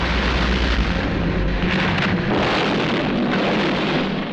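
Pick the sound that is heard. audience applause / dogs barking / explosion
explosion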